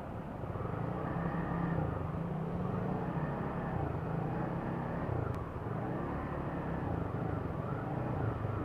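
Heavy afternoon road traffic heard from a vehicle stuck waiting to turn right: a steady, loud low engine rumble and road drone that continues throughout without a break.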